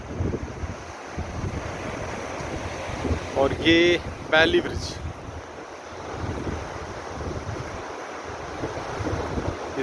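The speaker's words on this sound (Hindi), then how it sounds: "ये नीचे सतलज नदी बहती हुई" The Sutlej river flows far below in Kinnaur, Himachal Pradesh, a steady broad rush mixed with wind buffeting the microphone, while someone speaks briefly partway through.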